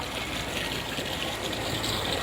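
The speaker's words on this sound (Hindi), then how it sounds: "ये जंगल से पानी बहता आता है।" A forest stream beside the Durga Dhara temple on the Narmada Parikrama route, its water flowing down steadily with a continuous close rushing and trickling sound and no voices.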